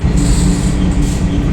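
A Kolkata metro train runs at speed, giving a loud, continuous rumble and roar with a thin high-pitched wheel squeal drifting over it, heard from up close with no talking.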